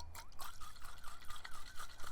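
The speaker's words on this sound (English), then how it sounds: "And then we're going to shake this up." A cocktail of cranberry juice shaken in a metal shaker, a steady run of quick, rhythmic rattling strokes that sound close and fairly soft, with no voices over them.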